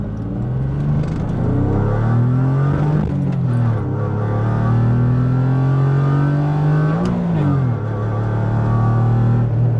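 A BMW E30 with a swapped S52 straight-six pulls away hard from a green light, its engine climbing in pitch, briefly dipping at a gear change, then climbing again, loud and close from inside the car.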